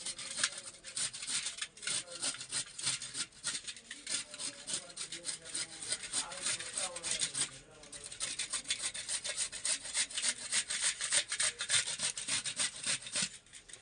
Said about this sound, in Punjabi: ਗਾਜਰ ਆਪਾਂ ਨੇ ਛਿੱਲ ਲੀਆਂ ਹੁਣ ਇਹਨੂੰ ਆਪਾਂ ਕੱਦੂਕਾਸ ਕਰ ਲੈਨੇ